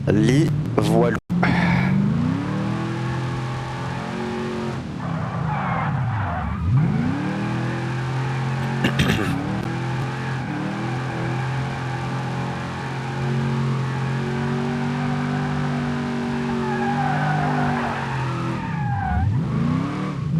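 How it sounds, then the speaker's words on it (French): Car drifting in BeamNG.drive: the engine revs rise and fall steadily under tire skids and squeals through long slides, with a voice talking over the driving and a sharp click near the start. "Et je retourne pour refaire du drift."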